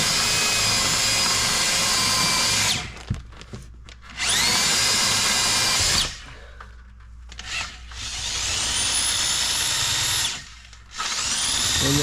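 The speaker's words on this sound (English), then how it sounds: "drilling that hole for the 2 lines through the wood" A power drill whines loudly as it bores through a wooden window sash, in three long bursts separated by short pauses, the pitch rising as each run spins up.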